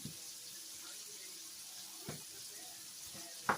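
Tap water running into a kitchen sink while potatoes are washed, a soft steady faint stream with a few light knocks and a louder clunk at the end.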